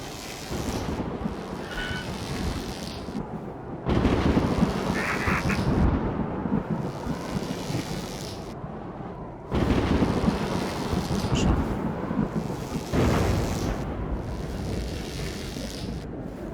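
Thunder and lightning in the video game The Falconeer: heavy rolling rumbles and a steady storm-like roar of wind and rain, swelling loudly at several points, with no talk over it.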